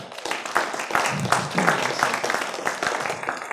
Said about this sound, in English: a little round of applause for them